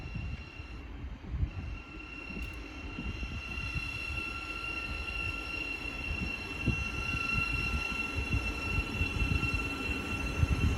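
A Class 700 Thameslink unit on the Cambridge to Brighton service runs through Hitchin station on the East Coast Main Line, giving a steady, broad rumble of wheels and traction with thin tonal whines, holding fairly loud throughout with no talk.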